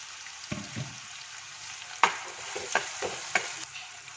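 Finely chopped onions, two medium ones, fry in a pan for a Kerala-style mussel stir fry, a quiet steady sizzle broken by several sharp spatula scrapes and knocks against the pan.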